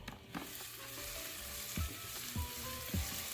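Covered pasta cooking in a pan gives a steady, soft sizzle and bubbling hiss, with a few faint low clunks, close and fairly quiet with no talking.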